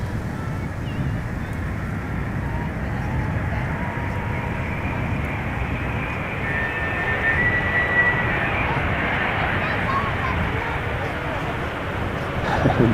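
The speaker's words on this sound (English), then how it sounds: "First up, we have this A330 Neo arriving from Seattle, Washington." An Airbus A330neo jet airliner approaches for landing at Amsterdam Schiphol Airport as a broad, steady roar that slowly swells, with wind buffeting the microphone and faint voices nearby.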